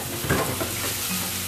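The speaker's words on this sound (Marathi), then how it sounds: "आलं लसूणचा कच्चटपणा जाईपर्यंत आपल्याला यालाही कांद्यासोबत परतून घ्यायचं आहे" Onion and ginger-garlic paste sautéing in a pan for a shark fish masala, giving a brief close sizzle with a soft stirring scrape.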